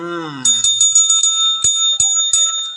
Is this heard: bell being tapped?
yes